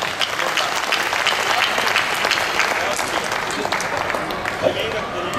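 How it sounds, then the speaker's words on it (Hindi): Applause from a school audience for a poet rises at once and stays loud, a thick, continuous clatter of many hands with a few faint voices mixed in. "मैं एक बार मुझे तालियों से आदेश करें।"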